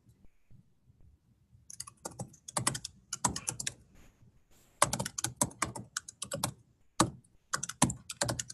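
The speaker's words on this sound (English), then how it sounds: "I see somebody typing loudly." Loud, clattery typing on a computer keyboard, bursts of rapid key clicks separated by short pauses, close up with no talking.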